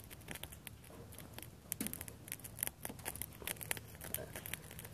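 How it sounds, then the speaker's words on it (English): Rain falls on a burning homemade firestarter candle outdoors, and the water makes faint, irregular crackles and tiny pops over a soft, steady patter. "you can hear it crackle when the water hits it"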